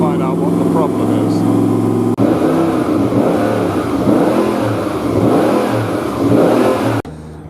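A racing boat engine, the Hendricks 55 at scrutineering day, runs loud and close with rough, sustained revving, its pitch shifting and cutting briefly, while voices talk over it.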